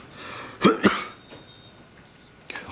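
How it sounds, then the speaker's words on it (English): Two quick, sharp coughs from one person in a quiet indoor room, close and moderately loud, followed by near silence and a faint rustle near the end. "I hate it when I cough in here."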